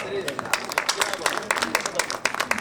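Applause at an evening poetry gathering, many hands clapping in a steady crackling wash with sharper bursts throughout, close and fairly loud, with no talking over it.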